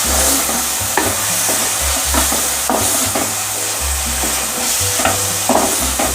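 Vegetables with peas and green onion are stirred in a hot pan, a spoon scraping and knocking at an irregular rhythm over a continuous close sizzle, with no one talking.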